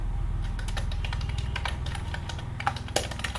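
Steady rapid typing on a computer keyboard, dense clicking keystrokes at an even pace, close up over a low background hum, with no speech.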